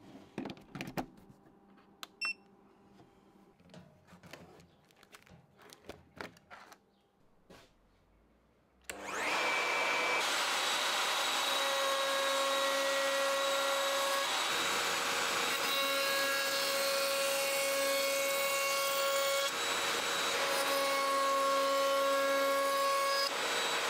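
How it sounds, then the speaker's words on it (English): A Trend router with a roundover bit easing the edges of pine parts, powered from a portable battery station with dust collection hooked up; scattered handling clicks and knocks, then a loud steady motor whine with shifting tone from about nine seconds on. "So I'm going to get a roundover bit, get it put into the trend router, get the router plugged into the EcoFlow, some dust collection hooked up"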